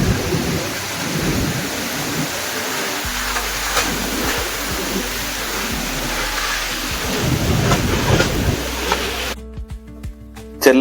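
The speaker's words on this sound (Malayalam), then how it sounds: "നല്ല അടിപൊളി കാറ്റും മഴയും അതിനോടൊപ്പം ആ മുകളിൽ നിന്ന് വീഴുന്ന വെള്ളത്തിന്റെ ശബ്ദവും" Steady heavy rain with wind and water pouring down from above in Kollengode, Kerala, broad and continuous, with a brief louder gust near the end.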